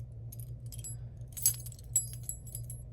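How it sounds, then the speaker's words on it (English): A bunch of old metal keys, including a vintage hotel key, jingles and clinks up close in a few short, bright bursts over a quiet low hum. "Some more keys. Old hotel key."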